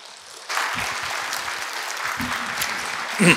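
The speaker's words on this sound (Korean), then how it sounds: "이제 강사 한민호 박사님 나오시면 큰 박수로 환영해 주시면 감사하겠습니다" Church congregation breaking into applause to welcome a guest lecturer, a sudden burst of many hands clapping that starts after a quiet half second and holds steady, with a few louder knocks and a brief rise at the end.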